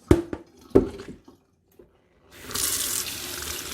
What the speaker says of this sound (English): We'll wash this 2 to 3 times. This is our napa cabbage.